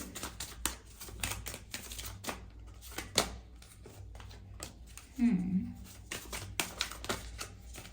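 Playing cards drawn from a deck and handled for a reading, giving a run of quick clicky snaps and slides, with a brief voice partway through.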